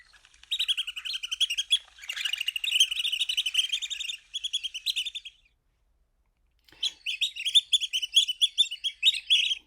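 Bird flight song played back from the Sibley birding app: bursts of high, sharp, rapid ticking chirps in quick series, a pause, then another run of bright repeated calls, clear and isolated.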